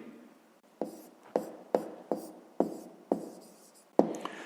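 Handwriting a fifth-grade maths solution for the perimeter of a rectangle: a series of about seven short, scratchy writing strokes, each a sharp rasp that fades out, spaced roughly half a second apart and heard close with no talk.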